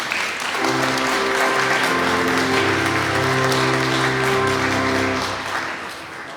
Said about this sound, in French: On peut s'applaudir entre nous.